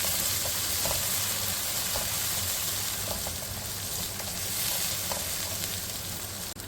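Ginger garlic paste fries in a pan with a loud, steady sizzle and occasional stirring scrapes, close up and continuous with no talking.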